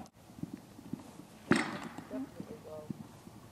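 Horse hooves on a riding arena during a riding lesson, soft irregular footfalls with a louder thump midway and faint voices in the background.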